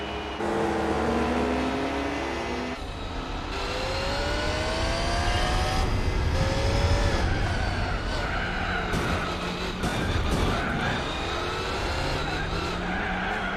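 A Jaguar Speed 12 race car in Gran Turismo 4 screams loudly through rising and falling engine revs with gear changes and tire skidding, a continuous high-pitched racing drone throughout.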